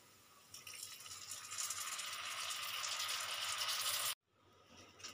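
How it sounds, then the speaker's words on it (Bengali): Water pours steadily into a pan of masoor dal curry, a close hissing, splashing stream that swells for about four seconds, then stops abruptly, leaving faint kitchen rustle. "এবার দিয়ে দেবো জল।"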